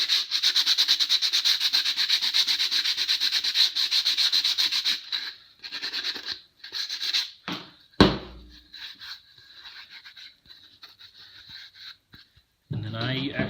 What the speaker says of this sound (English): So just lightly sand it, just so you don't get any splinters or anything.